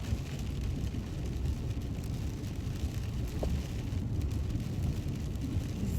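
Wind drives light rain sideways across a coastal peninsula road, a continuous rushing hiss over a low steady rumble with no voices.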